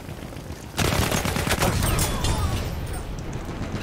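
Intense Battlefield 1 gunfire erupts after a near-silent first second, a dense, loud barrage of overlapping shots and bursts that keeps rolling steadily to the end.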